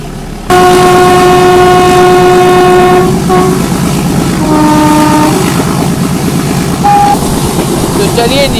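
Last metre gauge train between Omkareshwar and Mhow, its loud horn sounding in long and short blasts close by over the steady clatter of wheels on the rails, with voices in the background.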